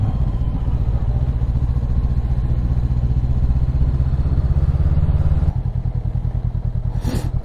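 A KTM Duke 790 motorcycle engine rumbles loudly and steadily at close range, then drops into a slower, throbbing idle as it parks.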